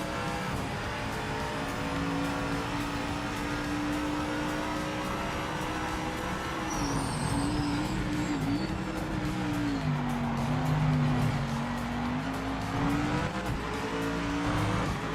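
A production car driven in a racing video game, its engine note droning steadily and rising and falling with gear changes over fifteen seconds, with brief tire squeal partway through and no talk.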